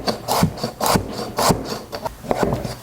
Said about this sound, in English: Cut the carrot into slices too.